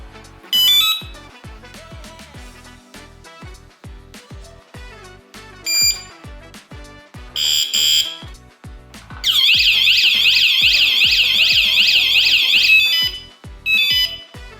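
Bicycle anti-theft alarm sounding right after a water submersion test, loud repeated electronic beeps and chirps building into a sustained warbling siren burst, then short beeps again.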